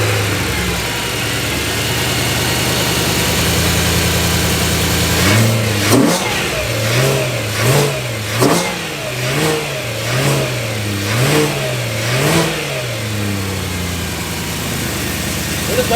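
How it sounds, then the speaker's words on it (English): A naturally aspirated car engine idles steadily, then revs up and down in a series of repeated throttle blips before settling back to a smooth idle. "You're probably gonna get a lot more engine noise with this."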